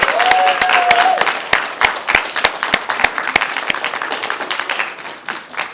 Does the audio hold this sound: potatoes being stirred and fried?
no